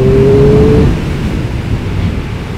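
A 2021 Triumph Speed Triple 1200 RS three-cylinder roars loudly at high revs above 6000 rpm, starting with a brief rising whine. Then it settles into a steady, dense engine and wind rush.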